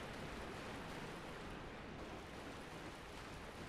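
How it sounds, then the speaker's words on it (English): Steady roar of a waterfall somewhere below in Dark Souls Remastered, a dense, even wash of rushing water that holds constant with no breaks or voices. "Down there is a waterfall."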